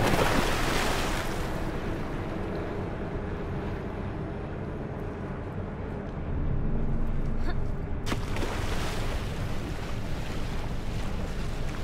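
Water splashing and surf-like wash in the video game Bramble: The Mountain King, a steady broadband rush of water and wind throughout with a louder splash surge partway through, no voices.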